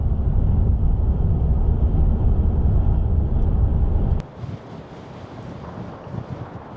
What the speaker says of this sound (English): the wind is blowing around absolutely everywhere